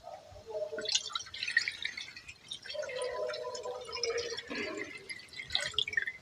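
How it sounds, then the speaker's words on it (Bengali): Just under a liter of milk pours into a wok sitting on a lit stove, giving an uneven gurgling, splashing stream of liquid over several seconds. "ওই কড়ার মধ্যে 1 লিটারের একটু কম হবে দুধ দিয়ে দিচ্ছি।"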